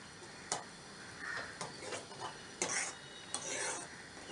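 Methi mutter malai being stirred in a pan after adding sugar, kasuri methi and garam masala: soft, irregular scraping and rubbing strokes with a few sharper clinks of the spoon, close and fairly quiet, no talk.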